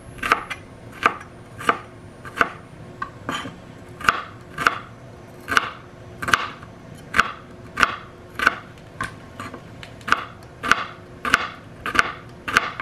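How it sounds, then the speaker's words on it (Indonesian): A knife chops onion on a board while preparing chicken-liver porridge for a baby. The strokes are close, crisp and steady, about twenty in an even rhythm, with no voices. "Ini sini aku potong dulu bawangnya."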